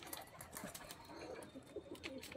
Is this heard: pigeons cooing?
yes